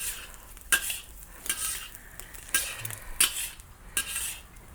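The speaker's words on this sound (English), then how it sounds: "Stir egg vegetables." Egg and vegetables stirred in a wok, with repeated metallic clanks and scrapes of a spatula against the pan over a faint background sizzle, in uneven bursts.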